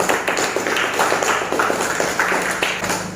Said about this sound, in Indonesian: sekali lagi beri tepuk tangan dulu kepada yang presentasi hari ini